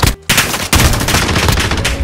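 Gunfire from a weak gun in Call of Duty: Modern Warfare, loud dense bursts of shots with a brief gap near the start, then sustained rapid fire to the end.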